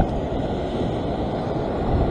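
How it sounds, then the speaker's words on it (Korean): Strong ocean waves surge at a sea fishing spot on the coast near Sydney, Australia, a steady loud roar of surf mixed with wind buffeting the microphone, with no one speaking. "파도가 세니까 약간 뒤로 와서"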